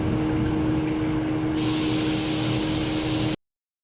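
Enamel sprays steadily onto a John Deere tractor rim for a second coat, a loud continuous hiss that brightens partway through before cutting off abruptly.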